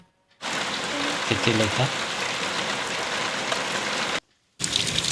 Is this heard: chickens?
no